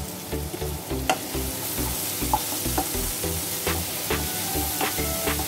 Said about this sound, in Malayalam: ഇനി നന്നായിട്ട് ഒന്ന് മിക്സ് ചെയ്യാം.